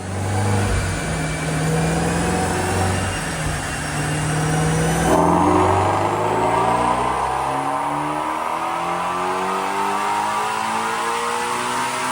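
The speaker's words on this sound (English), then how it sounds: "Check out this dyno pull." A Whipple-supercharged 5.2L V8 in a 2020 Mustang GT350 revs up steadily on a dyno pull, its pitch climbing with a supercharger whine over a sustained loud pull, no talking.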